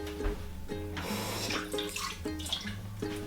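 Water running from a tap into a bowl of vegan gingerbread dough, a steady close splashing pour with no one speaking.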